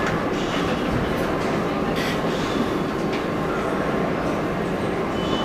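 An R142A subway car on the New York 6 line, Manhattan-bound, runs with a steady loud rumble, wheel and rail noise filling the interior throughout.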